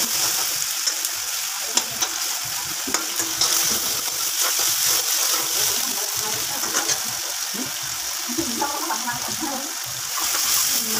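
Ginger-garlic paste with turmeric frying in a pan for Rajasthani-style matar paneer, a steady close hissing sizzle with scraping stir strokes running throughout.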